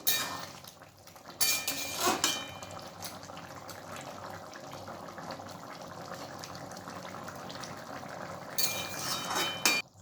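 Ghee is stirred into papaya and chana dal in a pan, with a soft bubbling simmer beneath scattered clinks and scrapes of a spoon against the pan, louder at the start and end.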